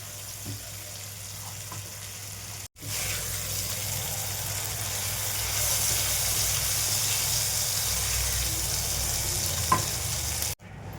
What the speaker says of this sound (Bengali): এইগুলোকে হালকা ভাজা ভাজা করে নেব।